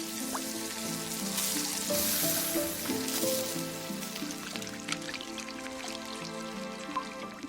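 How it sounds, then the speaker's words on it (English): Bamboo fungus eggs sizzle and fry on a hot earthenware plate, a steady crackling hiss with scattered pops and spits, close and continuous, with no voices. "The earthenware hot plate, offering the perfect blend of frying and searing, unlocks the full sizzling deliciousness of the bamboo fungus eggs."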